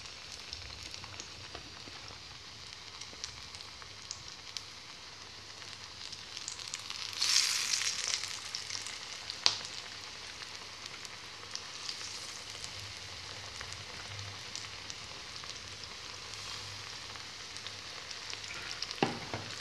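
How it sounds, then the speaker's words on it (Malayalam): Cabbage bajji deep frying in oil, a continuous close bubbling sizzle with faint crackles and a brief louder burst of spattering midway, no voices. "അങ്ങനെ നമുക്കെല്ലാം വറുത്ത് കോരിയെടുക്കാം"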